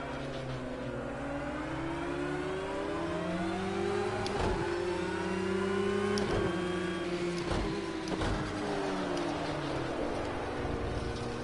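A race car engine in Project Cars 2 runs steadily on an outlap, a loud buzzing drone whose pitch rises and falls gently with gear changes, broken by a few sharp clicks.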